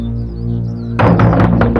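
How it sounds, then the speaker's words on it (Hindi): Knocking on a house door in a crime drama scene, a burst of several quick raps that start partway through over a steady background music bed. "मैं बहुत देर से दरवाजा खटखटा रहा हूँ।"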